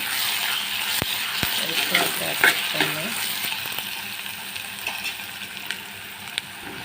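Onions half-fried in a pan with a spoonful of ginger-garlic paste added, a steady loud sizzle with scattered sharp stirring clicks and scrapes throughout.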